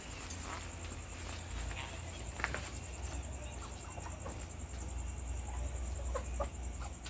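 Faint clucking from roosters amid a busy farmyard background, with a steady high whine throughout and scattered rustling nearby.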